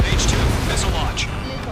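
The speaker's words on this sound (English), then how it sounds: "H2, missile launch." Missile launch in the Ace Combat 7 video game, a heavy roaring burst amid continuous jet and gunfire rumble, loud and dense with radio chatter over it.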